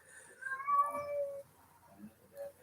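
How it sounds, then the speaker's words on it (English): A house cat gives one drawn-out, wavering meow with rising and falling pitch, close by in a quiet room, followed by a softer trailing cry. "My cat is singing the song of her people."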